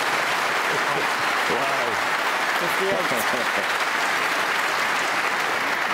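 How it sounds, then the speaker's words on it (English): Prolonged applause from the crowd at the 2019 UK Championship snooker semi-final after a brilliant black, a dense sustained clapping wash with a commentator's brief exclamation and voices over it. "Prolonged round of applause for that brilliant black."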